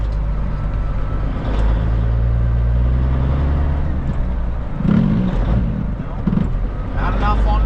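Kenworth K100E cabover truck with a 13-speed transmission, heard from the cab as a steady low engine drone, briefly dipping and surging through gear shifts, while someone talks over it.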